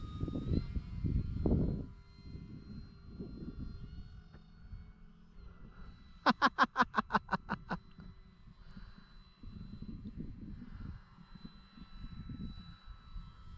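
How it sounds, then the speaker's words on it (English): An OMP Bighorn radio-controlled plane drones in flight outdoors, its engine hum rising and fading with distance; a quick burst of rapid clicking pulses cuts in midway. "what a nice flying plane"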